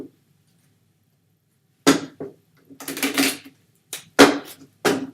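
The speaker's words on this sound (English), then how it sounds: "So if I shuffle this deck" A deck of playing cards being shuffled, heard as several short, crisp riffling bursts separated by pauses, fairly close and alone with no talking.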